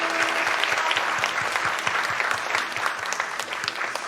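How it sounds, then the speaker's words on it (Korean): Church congregation applauding at the close of a Sunday worship service, a steady sustained clapping from a crowd that fills the room evenly for about four seconds with no talk over it. "우리 박수해 주시겠습니까?"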